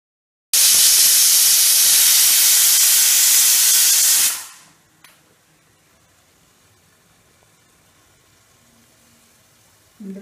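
Steam rushing hard out of a pressure cooker while appam steams, a loud continuous hiss lasting about four seconds that cuts off abruptly, followed by faint quiet room sound and a small knock.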